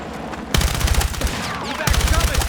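Heavy automatic gunfire in the video game Battlefield 6 rattles in dense rapid bursts, loud and close, broken by a brief lull before another sustained volley.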